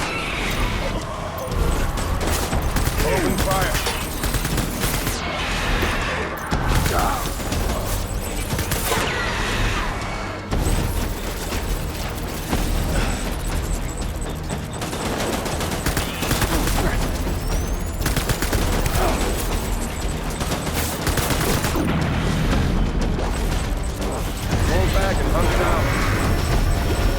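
Gunfire in the video game Death Stranding, loud sustained bursts of shots and crashing impacts over a long firefight, with voices talking intermittently through it.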